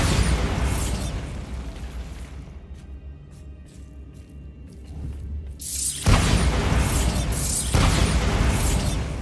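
The Bombardo explosion spell in Hogwarts Legacy lets out a loud, roaring blast followed by a rumbling tail, then a second heavy burst cuts in and keeps rumbling with crackling debris.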